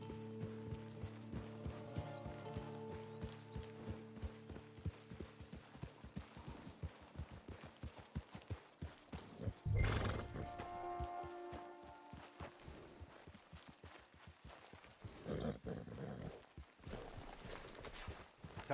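Horse hooves clip-clop steadily across ground in Red Dead Redemption 2, a western video game, with a rhythmic trot under a low musical hum and a brief louder burst midway; no clear neigh stands out.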